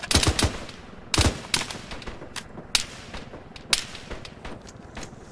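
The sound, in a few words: gunfire during a military operation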